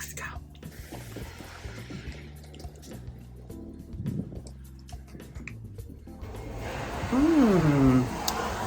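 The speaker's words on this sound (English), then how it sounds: "Now I go fill up my water bottle and this vase for my humidifier." A tap runs into a water bottle and a vase, a rushing stream near the end whose pitch climbs as the vessel fills, after quieter drips and a voice speaking earlier.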